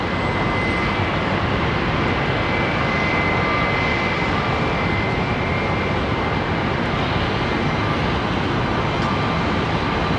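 An Airbus A320neo passes at Heathrow Airport with a loud, steady engine roar that holds evenly throughout, with no voices over it.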